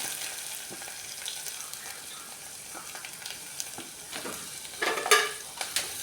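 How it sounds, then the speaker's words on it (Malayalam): Oil sizzles steadily at close range with faint stirring, then a sharper burst of crackling as curry leaves, chopped onions and green chillies hit the pan near the end. "കടുക് പൊട്ടുമ്പോൾ കറിവേപ്പിലയും സവാള അരിഞ്ഞ് വെച്ചതും പച്ചമുളകും കൂടെ ഇട്ട് കൊടുക്കാം"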